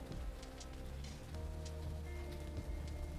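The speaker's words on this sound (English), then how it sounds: "Looks like the rain is letting off." Rain patters steadily on a Tesla during a drive with Full Self-Driving in heavy rain, a continuous close hiss of drops on the car's surface over a low road rumble, with no talking.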